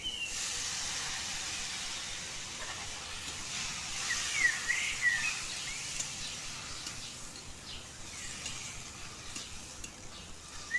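Chopped greens tossed into a pan of fried eggplant for a Bengali village-style chorchori, giving a steady hiss and sizzle with a brief burst of louder frying and stirring midway, no talking.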